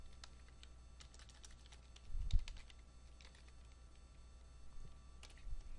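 Typing on a computer keyboard during data entry into a database: scattered light key clicks at a steady pace, fairly faint over a low room hum, with a slightly louder burst near the middle and another near the end.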